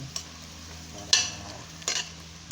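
Chicken with chili and hotdog is stirred in a sizzling pan, a soft frying hiss broken by three sharp scraping strokes of the spoon against the pan.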